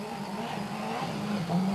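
A Peugeot 206 WRC rally car from the 1999 season test runs with a steady, fairly loud engine drone that rises slightly toward the end.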